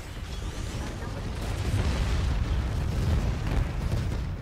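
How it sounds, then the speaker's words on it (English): Dense, continuous rumbling blasts with heavy low-end booms, loud and chaotic, like sustained explosions or artillery in the video game Titanfall 2, with no clear talk. "I'm hearing a lot of explosion out here."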